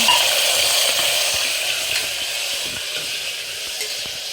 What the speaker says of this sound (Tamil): புதினா இலை கொஞ்சம் ஃப்ரை பண்ணிட்டதுக்கப்புறம் வெங்காயம், தக்காளி